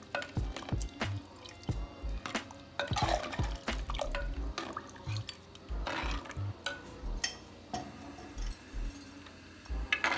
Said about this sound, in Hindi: अब मैं इसमें डालती जाऊँगी और साथ साथ हम इसको मिक्स करते जाएंगे